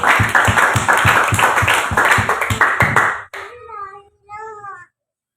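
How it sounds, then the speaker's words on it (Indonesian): A burst of church congregation applause during a worship service, dense rapid clapping for about three seconds, then it stops abruptly and a person's voice follows. "Tepuk tangan dong."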